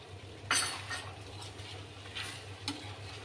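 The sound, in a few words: stirring cornflour into chicken chilli gravy in a pan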